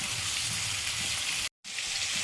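Capsicum and onion frying in oil in a pan for paneer chilli, a steady broadband sizzle that cuts out briefly before resuming just as loud.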